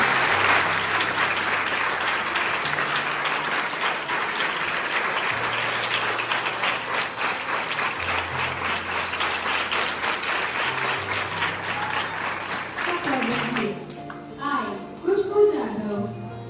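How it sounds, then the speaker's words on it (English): Sustained audience applause fills a school investiture ceremony hall, a dense steady wash of clapping for about fourteen seconds that then thins out into scattered claps, with music playing beneath. "Give a huge round of applause."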